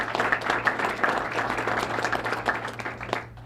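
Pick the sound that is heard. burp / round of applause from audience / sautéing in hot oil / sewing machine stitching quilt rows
round of applause from audience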